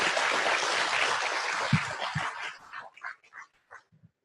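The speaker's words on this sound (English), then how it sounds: "Please give Dalphy a big round of applause for her presentation" Applause for a presentation on blueberry mummyberry, a dense burst of clapping that thins out into a few scattered last claps and fades to silence.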